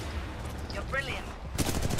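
Titanfall 2 gunfire erupts in dense, rapid bursts near the end of the moment, loud and sharp, after a stretch of game sound effects and a brief voice in the mix.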